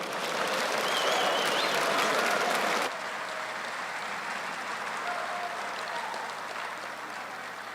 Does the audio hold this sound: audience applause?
yes